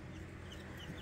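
Two-week-old baby chicks in a brooder give soft, steady clucking and peeping, a continuous low chatter of several birds close by with no talking.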